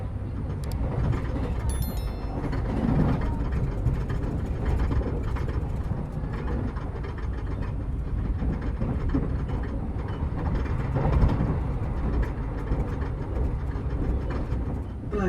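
Economy-class train rolling toward Bekasi station, heard from inside the carriage as a steady loud rumble with rattling and clanking of car mechanisms throughout.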